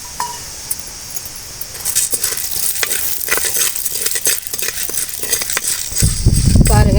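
Chana dal lentils dry-roasting in a pan while being stirred, a steady close scraping and rattling sizzle with light clinks that swells louder toward the end, with no talk.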